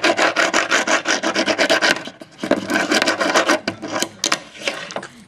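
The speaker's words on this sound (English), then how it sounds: "Here's a tech deck sound." Tech Deck fingerboard wheels rolling on a ramp or surface, a steady raspy rubbing roll that runs loud and close in repeated passes, with a brief pause partway through before the rolling resumes.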